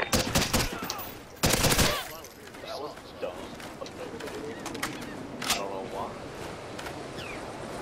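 Gunfire in Call of Duty: Ghosts multiplayer, with loud bursts of shots early on and scattered, fainter shots later, under game ambience and chatter.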